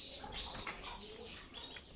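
Breeding canaries give a couple of high chirps amid soft fluttering and rustling, close by with low background noise.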